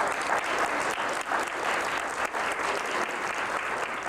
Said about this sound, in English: We'll all give them a big round of applause